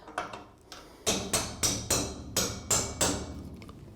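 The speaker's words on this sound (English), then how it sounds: "you can get it started with a hammer" A hammer taps a 3-inch pin into place with a run of about ten sharp metallic strikes. They start as light, quick taps and settle into a steady series of firmer blows, close and clear with no talking.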